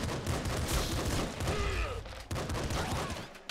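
Rapid shotgun blasts in the video game Nuclear Throne, a dense barrage of booming shots and impacts with layered game effects, fairly loud and continuous, with no voices.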